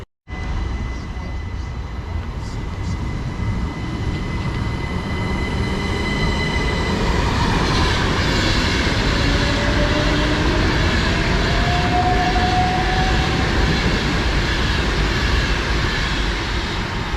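A Class 377 train departs a station with a loud, continuous rumble and rolling wheel noise, a rising whine from the traction motors, and faint wheel squeal, heard close up throughout without talk.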